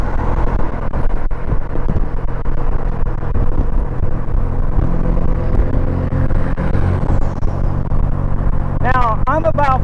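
Polaris Slingshot cruising in fifth gear at about 42 mph, a steady low engine and road rumble heard from inside, continuous throughout, with someone talking briefly near the end.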